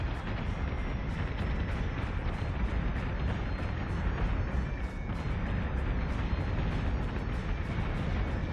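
Starship weapons fire continuously in the space battle game Battlestar Galactica Deadlock, a loud, dense barrage of rumbling blasts with rapid repeated impacts sustained throughout, with no voices.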